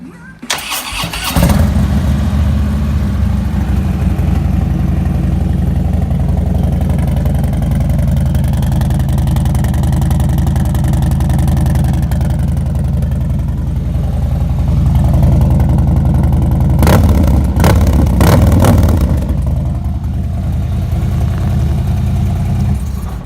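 A motorcycle engine cranks and catches, then settles into a loud, steady idle nearby, with a brief burst of clattering revs partway through.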